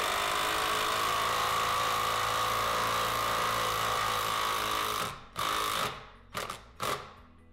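A power tool drives threaded Sammys anchors into a mount, a loud continuous buzzing drone that runs steadily for about five seconds, then stops and restarts in a few short bursts.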